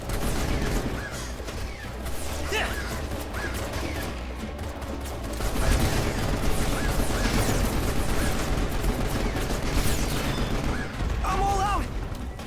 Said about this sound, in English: Oh, I accidentally blew up an explosive.